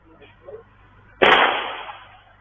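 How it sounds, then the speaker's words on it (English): One loud gunshot caught on CCTV footage, a sharp muffled crack with a fading tail, preceded by faint indistinct background sounds. "He shoots twice at Joseph Nee"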